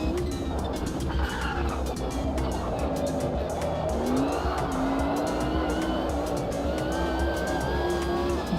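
Formula 1 racing cars in a video game scream past continuously with high engine whine and repeated tire squeal and skidding, loud and sustained throughout.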